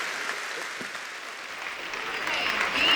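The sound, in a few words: applause for the sponsors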